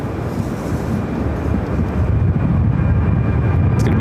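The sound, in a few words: Boeing 757 taking off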